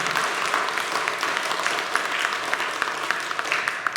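Steady applause from a church congregation for the Siwon choir during a Sunday service, a dense, continuous wash of clapping filling the room with no voices on top.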